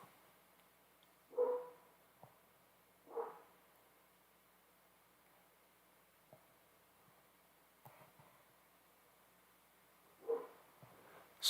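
A dog barks a few scattered times at a distance, isolated woofs separated by long quiet gaps against a faint steady hum.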